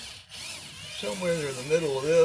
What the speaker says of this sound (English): All you do is just drill me a hole.